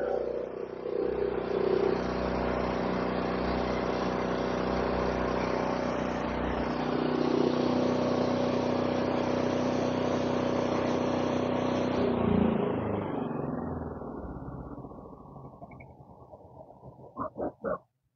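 PhilKing diesel generators, a PK10000STRA and a 4200 automatic unit, hum steadily with a rough low drone for about twelve seconds before winding down and falling quiet, ending with a few faint clicks.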